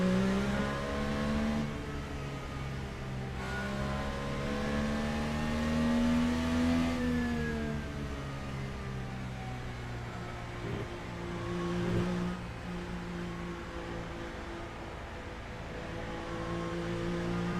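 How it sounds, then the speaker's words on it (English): An Indycar pace car in a sim racing game laps the Cleveland track, its engine droning and shifting pitch as it accelerates and eases off, steady and fairly close with no talk. "Oh, this is a human-driven pace car."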